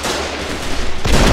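Dense, loud, continuous gunfire from the war video game Foxhole, a sustained roar of rapid shots that swells toward the end, no speech.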